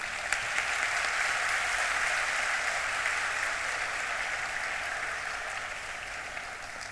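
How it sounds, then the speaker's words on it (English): An audience at a school prize ceremony for 2024 and 2025 toppers gives sustained applause, a dense even wash of many hands clapping that holds steady and fades slightly toward the end. "Can the applaud be louder, please?"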